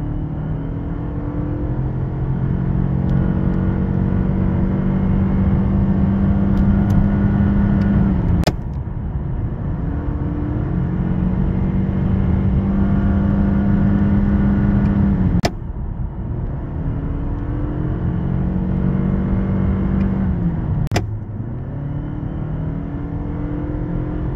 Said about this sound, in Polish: niezła reakcja i auto wyje